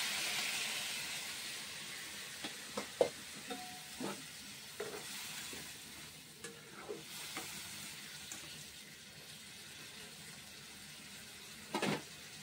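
Water poured into a pan of fried drumstick (sajna) pieces for a Bengali chorchori, giving a steady sizzle with scattered stirring clinks and a sharper burst of hiss near the end.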